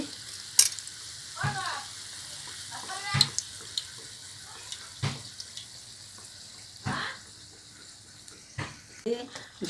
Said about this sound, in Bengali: মুগলাই ভাজা হয়ে গেছে